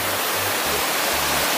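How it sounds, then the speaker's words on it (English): A waterfall pours down over rocks in a loud, continuous broadband rush, heard up close and filling the whole scene. "here's the top of the waterfall. It starts right up here, comes shooting down these rocks, and then comes down these rocks over here."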